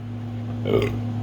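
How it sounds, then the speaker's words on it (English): A single short, close burp from a man, a low guttural belch over a steady electrical hum. "I got the burps."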